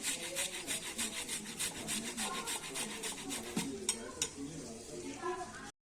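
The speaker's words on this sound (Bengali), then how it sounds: "এবার জল থেকে তুলে এবার আমি গ্রেট করে নেব" Soaked mankochu (giant taro) is grated by hand, giving close, steady rasping strokes that repeat in a quick, even rhythm with a few sharper scrapes.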